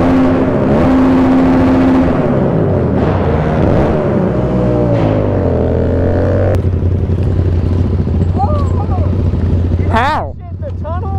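Motorcycle engines rev loudly and continuously with no aftermarket exhaust fitted, droning and rising in pitch among a group of bikers, with a brief whine near the end and no talk over it.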